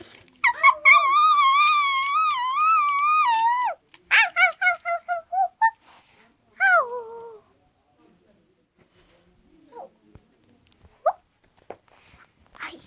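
A dog whimpers and whines in high, wavering cries, then several short yelps follow before a final drawn-out whine; quiet afterward with faint rustles.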